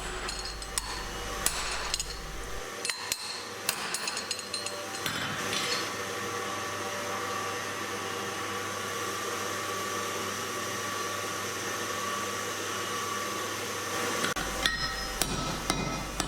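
Blacksmith forging U-box tongs hammers hot steel on a guillotine tool to isolate the jaw, with repeated sharp ringing hammer blows over a steady roaring forge or blower in the background.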